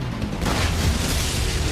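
An animated rocket launcher built from scrap doll parts fires a single shot, a loud sustained boom and rumbling blast that fills the space and knocks guards down.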